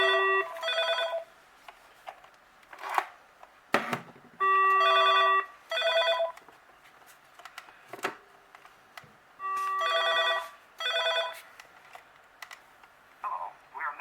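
The base of a VTech CS-6858 DECT 6.0 cordless phone rings in repeated electronic warbling bursts with short pauses between them, alongside a few clicks and button taps.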